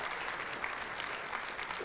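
Live audience at a public NBA podcast taping in Paris clapping steadily throughout, a dense continuous wash of applause at even loudness from start to finish.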